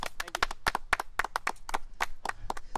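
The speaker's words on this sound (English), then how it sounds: "make him welcome, please, a round of applause." Clapping from the audience at an R&B, swamp and blues show, a brief burst of sharp individual claps with a loose uneven rhythm, moderately close and not very loud.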